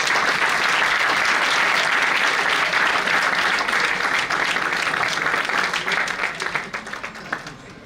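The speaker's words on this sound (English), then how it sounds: "once again a huge round of applause" Sustained audience applause at a formal college event honoring a chief guest, loud and dense throughout, thinning into scattered individual claps near the end.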